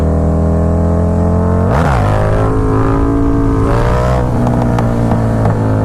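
A motorcycle engine idles loud and close, then blips sharply as the clutch is dumped for a wheelie, dropping back and swelling again a couple of seconds later.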